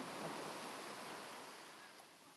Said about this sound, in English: Watch Jill get hit by a wave.